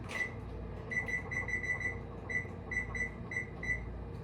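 A home oven beeps while it is being set to preheat, sounding a series of short, high electronic beeps at an uneven rhythm. They are clear and close against a faint room hum, and nobody speaks.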